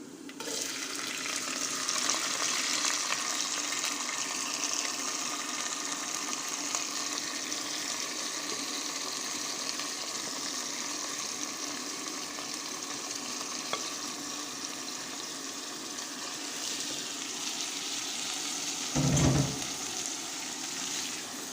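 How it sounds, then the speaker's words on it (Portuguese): Rice frying in a pan with garlic and melted lard, a steady crackling sizzle throughout, with a brief louder scrape or stir near the end and no voices. "Vou dar uma fritadinha no arroz com o alho e com a banha."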